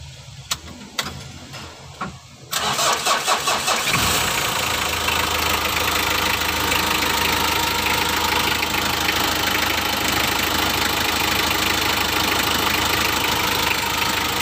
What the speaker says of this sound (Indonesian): kita coba hidupkan dulu untuk mesinnya